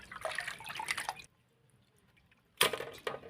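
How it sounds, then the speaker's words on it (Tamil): Goat intestines are rinsed in water, giving two bursts of splashing, sloshing liquid separated by a quiet pause, close and fairly loud. "இப்போ தண்ணியில் வந்து அலசி இப்படி எடுங்கன்னு சொல்கிறோம்"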